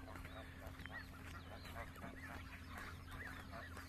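A flock of ducks invades a meadow by a carp-fishing camp, quacking and honking in busy overlapping calls at close to moderate distance, with steady low background noise throughout.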